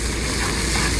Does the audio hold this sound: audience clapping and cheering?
no